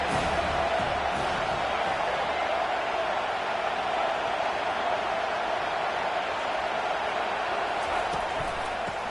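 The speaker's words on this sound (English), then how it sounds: "This crowd trying to make life miserable for this offense." Stadium crowd in an NCAAF 25 college football game, a steady dense roar held at a constant level for the whole stretch with no breaks.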